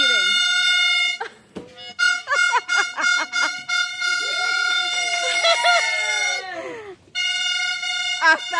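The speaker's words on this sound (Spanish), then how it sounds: "Hasta bocina de fuera." A vehicle horn honks from outside during a birthday surprise, several sustained blasts and short toots, with excited voices chattering in between.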